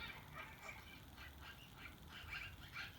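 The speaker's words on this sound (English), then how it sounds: "That's a weird sounding bird." A strange bird calls repeatedly in quick, quacking bursts, faint and somewhat distant over a low background rumble, with no talk.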